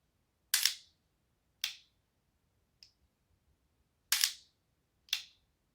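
Dry-fire trigger pulls on a Blackbeard auto-resetting trigger in a rifle, five sharp snapping clicks spaced about a second apart, one much fainter, each crisp and close in otherwise quiet surroundings.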